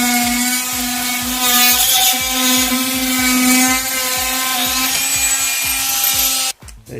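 A Makita 10.8 V cordless multi-tool runs loud and close with a steady buzzing whine and rapid rasping cuts, continuing for several seconds before stopping abruptly.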